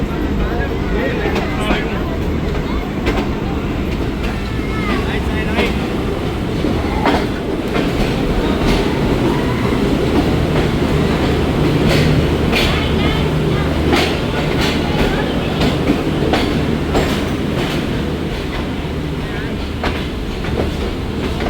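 Shalimar Express passenger train pulling out of a station in Pakistan, a steady loud rumble of wheels and carriages with faint rhythmic clatter running throughout, voices audible in the background.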